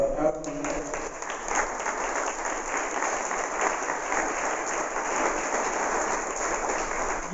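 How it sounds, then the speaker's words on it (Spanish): Fairly quiet, continuous applause for Ricardo at a swearing-in ceremony for regional representatives, an even rain-like patter of many hands that holds steady throughout. "Un fuerte aplauso para Ricardo."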